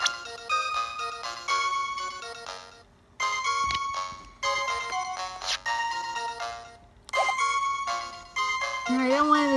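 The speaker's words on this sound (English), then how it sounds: "There goes my phone again." Phone ringtone playing a bright electronic melody in repeated bursts with short gaps, close and loud, while a voice speaks briefly near the end.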